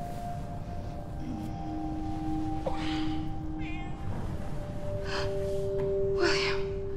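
Cat meows in the video game Wolfenstein II: The New Colossus, a few faint, drawn-out calls over a steady droning game background with breathy sounds.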